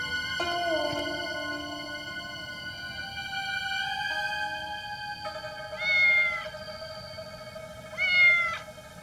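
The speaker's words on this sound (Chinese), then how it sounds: "只有一只野猫" A feral cat gives two drawn-out meows, rising and falling, fairly close and clear over a steady sustained musical drone, with no talking.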